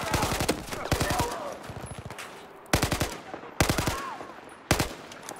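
Automatic gunfire in Battlefield 4 rattles out in several quick bursts of rapid shots against enemies, loud and close, separated by short pauses.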